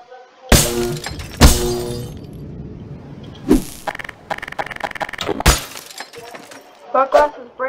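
Glass breaks and shatters repeatedly in a WALL-E video game mod, several loud crashing bursts with tinkling debris spaced across the clip, with speech in between.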